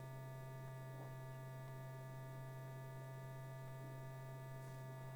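An MD3 electrical power generator on an aircraft ground test setup, hooked up to an F-102A, gives a steady, unbroken low electrical hum with faint tonal overtones that stays level throughout, with no voices.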